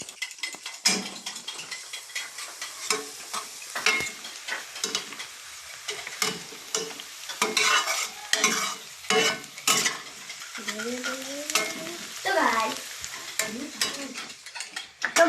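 A spoon stirs and scrapes masala frying in a pot for Hyderabadi red chicken salan, steady sizzling under repeated metallic scraping strokes, close and fairly loud, with a brief voice in the background.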